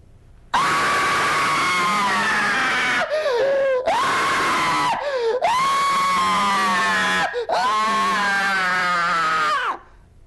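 A man lets out a long, loud, blood-curdling scream in several sustained bursts broken by brief gasps for breath, raw and close, with shifting pitch and nothing else heard.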